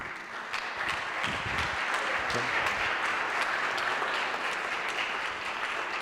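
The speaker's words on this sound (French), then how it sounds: "Je vous demande d'applaudir Jean-Luc Doni" Audience applause at a France–Italy business networking event featuring inspiring testimonials: dense, steady clapping from a crowd that fills the room at full strength for about six seconds without letting up.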